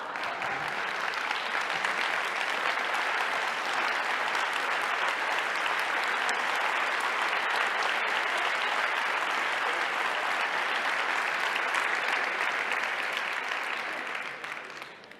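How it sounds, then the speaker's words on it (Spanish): A standing audience welcoming a speaker with loud, sustained applause, a dense unbroken roar of clapping from many hands lasting about fifteen seconds before tapering off at the end. "os levantéis y me deis un aplauso muy fuerte para acogerme"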